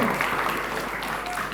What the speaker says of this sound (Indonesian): Tepuk tangan buat Tepuk Dewan Juri